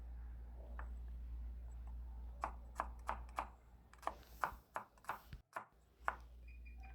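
Red onions being chopped small for fish chilli curry, a run of sharp knife strikes on a board, quick and fairly close, alone with a low background hum.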